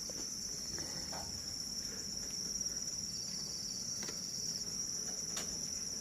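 Crickets on a cricket farm chirp in a dense, continuous high trill, steady and close throughout with no voices.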